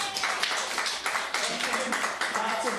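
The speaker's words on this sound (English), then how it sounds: "Lots of applause." Improv show audience applauding, with dense clapping mixed with cheers and crowd voices, steady and loud for a few seconds.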